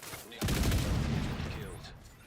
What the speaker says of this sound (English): Why are we using mortars already?